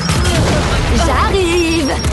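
A grenade blast in the Gears 5 Horde mode lands amid ongoing game combat, a loud burst of booming noise with gunfire clatter, followed by a rising tonal whine.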